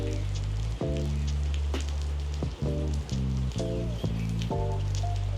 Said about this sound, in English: it's still raining like crazy